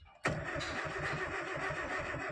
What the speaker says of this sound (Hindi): अभी हम सेल्फ मार रहे हैं